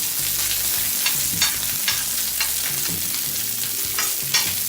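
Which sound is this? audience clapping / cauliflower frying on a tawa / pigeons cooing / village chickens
cauliflower frying on a tawa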